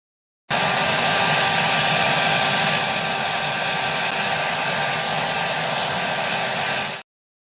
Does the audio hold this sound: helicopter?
yes